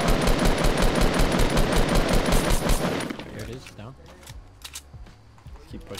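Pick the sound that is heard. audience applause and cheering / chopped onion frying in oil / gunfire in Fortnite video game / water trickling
gunfire in Fortnite video game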